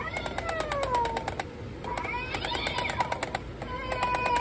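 A Halloween cat decoration at a Home Depot store gives repeated electronic meows with a rhythmic clicking pulse behind it, steady and close, lasting several seconds.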